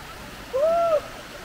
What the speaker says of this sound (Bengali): নানান রকমের পাখির ডাক, পোকার ডাক শোনা যাচ্ছিল